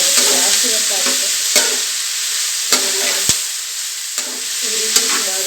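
Tomato chitranna fries in a pan with a steady loud sizzle, broken by occasional sharp scrapes and taps of a spoon stirring.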